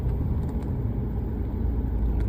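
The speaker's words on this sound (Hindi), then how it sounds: "ये लगा दी मैंने गाड़ी पार्किंग में।" A car idles and rumbles steadily as it is parked in an underground car park, a dense low engine drone that fills the space without a break.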